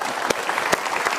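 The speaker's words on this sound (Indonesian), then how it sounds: "kita berikan tepuk tangan" Studio audience clapping during a televised Indonesian motivational talk show, a steady dense patter of many hands with a few sharper bursts, moderately loud and without speech.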